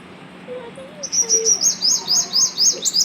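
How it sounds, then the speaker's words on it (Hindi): A small black bird chirps in a quick, regular series of bright, high calls, fairly close and clear, with a faint lower call just before it. "मैं चिड़ियों की आवाज़ की वजह से ऊपर आती हूँ ज़्यादातर।"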